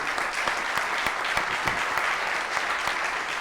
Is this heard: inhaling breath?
no